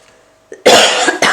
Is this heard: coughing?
yes